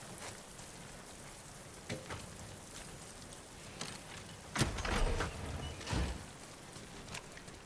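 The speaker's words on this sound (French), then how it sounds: "Allons nous abriter de la pluie." Rain falls steadily in The Last of Us Part II as a soft, even patter, broken by a few louder thuds and splashes nearby.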